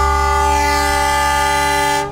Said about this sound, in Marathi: अरे वा, हॉर्न तर एकदम तगडा आहे.